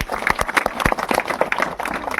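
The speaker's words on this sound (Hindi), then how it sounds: "ताली जे मार" An audience at a magic show claps in a lively, uneven burst of many hands, close and fairly loud, running continuously throughout.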